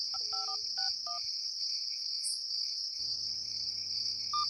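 Touch-tone phone dialing a number, a quick series of distinct DTMF beeps followed by a pause and a ringing tone, with a steady insect-like chirp running underneath throughout.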